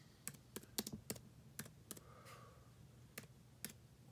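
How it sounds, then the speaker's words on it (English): A computer keyboard is typed with one hand in short, irregular bursts of sharp clicks with pauses between them, quiet and close, with no talking. "I'm typing with one hand, sorry about that."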